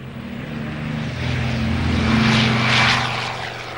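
A propeller aircraft of the Berlin airlift flies past with a loud, droning engine hum that swells toward the middle and then eases off.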